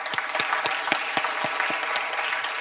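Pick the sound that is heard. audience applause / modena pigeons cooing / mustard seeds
audience applause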